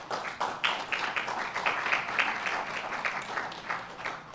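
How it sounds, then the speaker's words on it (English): A modest round of applause at a business association's annual meeting for retiring board members: fairly faint, scattered hand claps with an uneven, pulsing rhythm and no talking. "if we can give them a round of applause"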